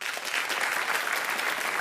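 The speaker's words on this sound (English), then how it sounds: "applaud if you have" A Harvard lecture-hall audience applauding in response to a question, a brief steady burst of many hands clapping at moderate distance, with no talk over it.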